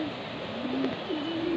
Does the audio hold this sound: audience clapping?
no